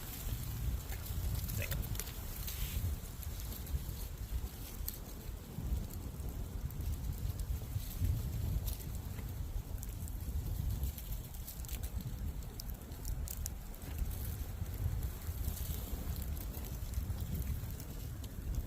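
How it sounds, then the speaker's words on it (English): Steady wind rushing past outdoors at an overnight campsite in the Uwharrie forest, a continuous low roar with gusty swells, and a person briefly mutters under it. "the wind changes direction yet again"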